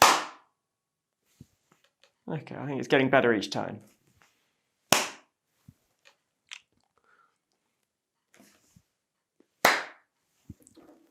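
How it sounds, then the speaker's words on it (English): Hand claps ring out as an audio clap test for an EZVIZ C3N security camera, three sharp isolated claps spaced several seconds apart, with a short stretch of talking between the first two. "Let's try the clap test."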